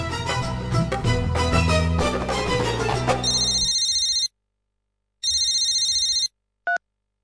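A loud electronic phone ringtone with a bright repeating melody plays, cuts off, rings again briefly, then gives a short final beep.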